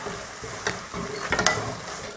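A spoon stirs ground mutton keema in a hot pan. The meat gives a steady close sizzle throughout, with a few scraping strokes and clinks of the utensil against the pan.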